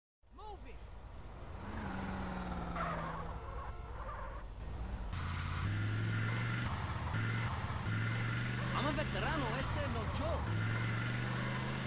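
Cars racing in GTA San Andreas, steady engine drone with rising and falling revs and gear changes under game music and voices.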